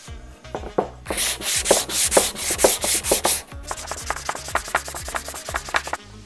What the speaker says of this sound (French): Pour le ponçage, on utilise un grain 120 pour des finitions propres.